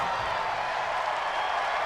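A steady, even roar of stadium crowd noise fills the Madden 20 football game between the Titans and Eagles, a distant unbroken wash with no distinct claps or cheers.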